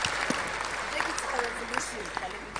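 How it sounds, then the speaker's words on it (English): Audience at a Springboard 2019 roadshow event in Kumasi applauds steadily, a dense wash of clapping with occasional sharper claps and faint voices underneath. "And I think that Mrs. Paula Sedofor deserves another big round of applause, ladies and gentlemen."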